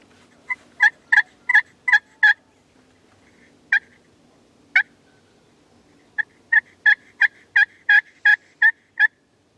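Wild turkeys gobble in the distance: a run of six rattling gobbles, two isolated calls, then another rapid series of about eight, each burst sharp and clear over a quiet outdoor background with no talking.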